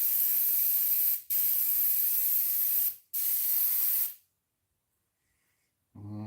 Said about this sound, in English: So let's get the airbrush cleaned off.